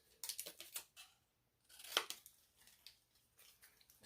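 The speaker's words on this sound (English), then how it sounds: "I'll just cut them if I can find a pair of scissors here" Scissors snip repeatedly at scrapbook paper in quick, crisp cuts with short pauses between them, close by and fairly quiet.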